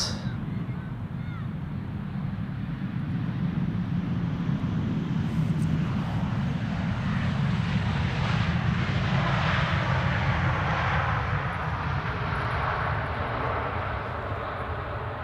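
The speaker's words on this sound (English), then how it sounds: "KLM just now landed." A KLM airliner lands at Amsterdam Schiphol Airport, its engines giving a steady, broad roar that swells slightly midway and holds loud throughout, with some wind noise.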